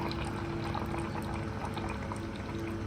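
Hot water poured steadily for Maggi Big Curry noodles, a continuous close splashing rush with no break, fairly quiet.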